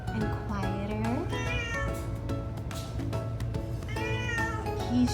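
Repeated meowing from a house cat looking for a home, clear and near, rising and falling cries spaced through the moment, with soft speech in the background.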